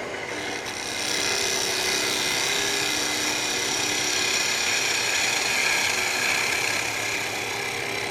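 A spindle gouge cutting wood on a spinning wood lathe makes a steady, close scraping hiss that starts after a second and continues evenly without talk.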